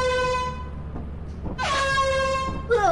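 The air horn item in Lethal Company blares in loud, sustained blasts, a long tone that breaks off and then sounds again in two further bursts close to the listener.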